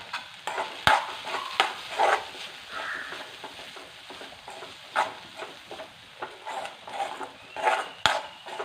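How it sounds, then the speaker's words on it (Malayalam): Curry in a pan being stirred after ground cumin goes in, with soft scraping strokes and a light sizzle, plus a couple of sharp knocks against the pan, close up and without speech. "ഇനി നമുക്കിതൊന്ന് ഇളക്കാം"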